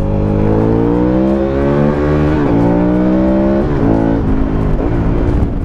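An Aprilia Caponord 1200 motorcycle engine revs hard and close in first gear, its pitch climbing steadily, dipping briefly at each shift, then rising again.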